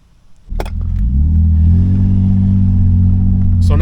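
A 2003 Nissan Pathfinder engine cranks and catches, then settles into a loud, steady idle rumble close by, with a faint click at the start and another near the end.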